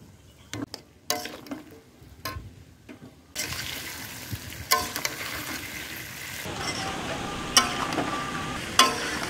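Fried vegetables are sautéed with mixed spices in a pan, with scattered scraping and clinking stirs at first, then a continuous soft sizzle punctuated by sharp utensil taps.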